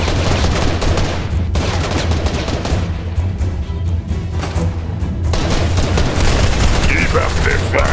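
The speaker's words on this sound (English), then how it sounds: "that was a big explosion" Dense, loud bursts of gunfire and blasts roll continuously in Fortnite, a chaotic barrage of explosions with no pauses.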